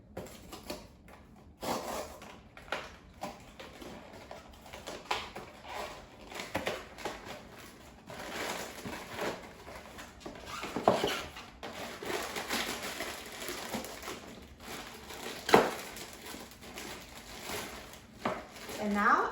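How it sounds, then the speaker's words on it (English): A plastic package of frozen popcorn shrimp is torn open in a home kitchen, giving scattered crinkling rustles and sharp crackles at close range, with a few louder snaps toward the end. "Now I'm going to open a package of frozen shrimp."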